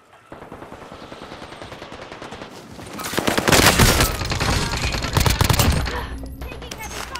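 Video game gunfire: sustained machine-gun bursts and overlapping shots, quieter at first and then swelling into a loud, dense fusillade near the middle before easing off.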